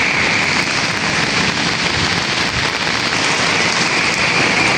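Steady, heavy typhoon rain pours continuously, a dense hiss of drops drumming on surfaces close by.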